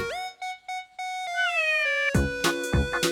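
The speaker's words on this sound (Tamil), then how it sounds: "பூனை, பில்லி." A cartoon cat gives a few short, tonal, clean meows in an educational animal-names cartoon, followed by a louder, busier stretch of sound. No one speaks.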